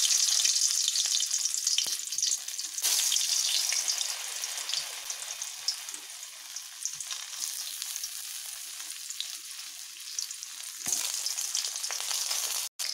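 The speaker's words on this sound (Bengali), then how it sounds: "কড়াতে আমি তেল দিয়ে নিয়েছি। এবার আমি পটলগুলোকে ছাড়বো।" Pointed gourd (potol) pieces fry in oil in a wok, giving a steady close sizzle with occasional soft pops and clinks.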